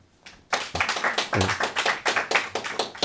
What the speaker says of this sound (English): just clap if you're a New York Knicks fan